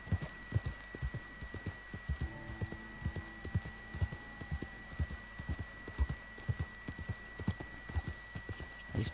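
Hooves clip-clop steadily in Red Dead Redemption Online as a horse walks along, producing an even, close rhythm of soft thuds over a low hum, with a faint voice now and then.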